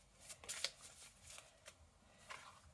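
Tarot cards shuffled by hand give soft, close riffles and flicks in a few short bursts, faint and alone without talking.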